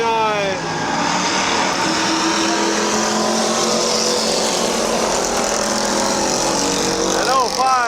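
Race cars roar around the oval at Midvale Speedway, a dense, continuous engine din with passing cars whining up and down in pitch, while an announcer talks over the noise.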